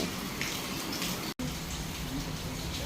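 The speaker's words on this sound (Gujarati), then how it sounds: "વરસાદ આવ્યો" Soft, steady rain patters and hisses without pause, apart from one brief dropout midway.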